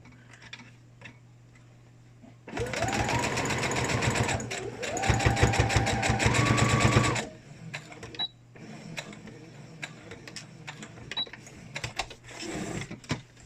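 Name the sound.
sewing machine stitching a homemade fabric mask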